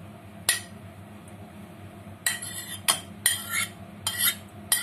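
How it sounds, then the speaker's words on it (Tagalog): Utensil stirring dumpling filling of chopped dried shrimp, ginger and onion in a bowl, giving several sharp clinks and scrapes at irregular intervals over a low, steady room hum. "Mix ko na siya dito."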